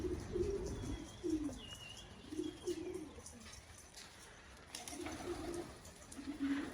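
Young pigeons cooing in short repeated low phrases, with a thin chirp above, fairly quiet and outdoors, no talk.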